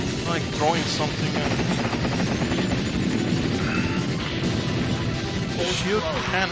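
A helicopter boss battle in the arcade game Armored Warriors, with dense rotor thumping mixed with explosions, gunfire and crashing impacts throughout, while a player talks excitedly over the game sounds.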